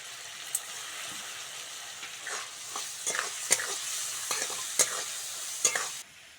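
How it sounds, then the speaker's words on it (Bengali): Prawns fry with cumin paste in a pan, a soft continuous sizzle broken by a series of scraping, clinking stirs that come faster toward the end, close and fairly quiet. "চিংড়ির সঙ্গে জিরেটা ভালো করে কষে নিয়েছি"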